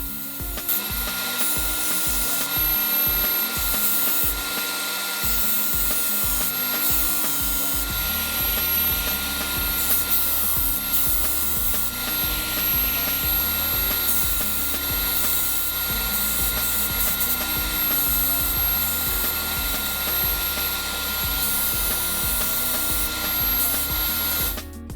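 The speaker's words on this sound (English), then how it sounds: "The disc sander helps a lot in this job, but it doesn't do everything." A disc sander shapes a wooden key hanger, a continuous abrasive rubbing and grinding that runs throughout, with a rhythmic tonal backing that sounds like music underneath.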